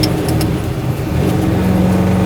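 A twin-turbo 1967 Chevelle of about 1000 wheel horsepower with a sequential shifter accelerates, its engine a loud, close, continuous roar that holds steady for a couple of seconds.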